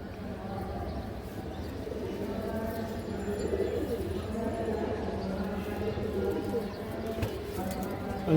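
Pigeons of fancy breeds, male and female birds kept together, cooing steadily in a low murmuring drone throughout, with a continuous background hum and no clear breaks.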